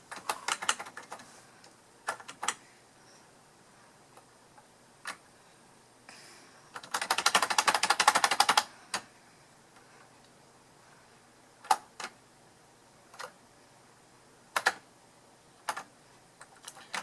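Typing on a vintage word processor's keyboard: sparse, sharp clacking keystrokes spread irregularly, with one dense burst of rapid rattling key presses partway through, heard close up with no talking.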